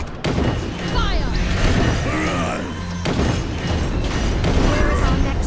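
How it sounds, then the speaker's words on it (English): A volley of soldiers' gunfire in The DioField Chronicle battle, with dense booming blasts and crashing impacts layered over busy battlefield din, loud and continuous, with voices heard amid the noise. "Soldiers ready! Fire!"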